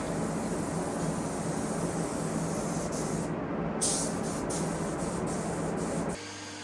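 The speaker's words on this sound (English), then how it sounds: "spray these inside edges" Steady, loud hiss of a spray gun painting the inside edges of custom bathroom built-ins, continuous and close, with brief dips in the hiss before it cuts off near the end.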